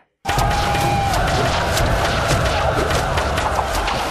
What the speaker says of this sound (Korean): 갑자기 함성이 울리더니